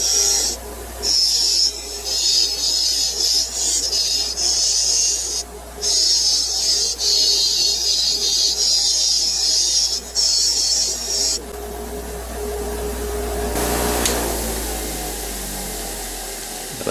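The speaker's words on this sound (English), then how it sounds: "I'm just going to use a wire brush, this wire wheel here, and just give them a little clean" A spinning wire wheel scrubs rust off old screws from a vintage Japanese Squier Telecaster. Bursts of harsh, hissing grinding come up close, broken by short pauses, before a quieter whirring wind-down.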